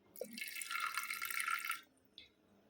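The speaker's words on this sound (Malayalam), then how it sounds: "നമ്മളുടെ പുളി വെള്ളം ഒഴിച്ചു കൊടുക്കട്ടെ" A brief splashy pour of tamarind water into a pot lasting a second or two, then a faint clink in the quiet.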